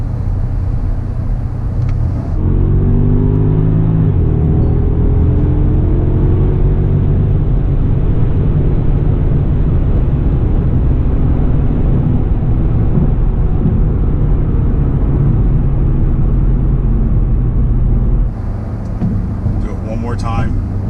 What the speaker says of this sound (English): these acceleration tests, for the comparison between the stock and when the Racechip is installed, I'm going to leave the PDK in the auto mode